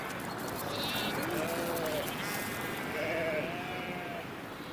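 Black sheep of a local breed in the Karachay region bleat twice in wavering calls over a steady, rushing outdoor background, the animals at a moderate distance.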